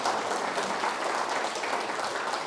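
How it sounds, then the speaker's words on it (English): A crowd at a lecture applauds steadily, a thick, even wash of many hands clapping at once, continuous and fairly close throughout. "Let's give them another round of applause here"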